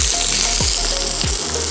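Onions or similar vegetables sizzling steadily in a pan over low heat for a slow caramelization while making BBQ Texas lasagna, a continuous loud frying hiss with a couple of soft stirring scrapes.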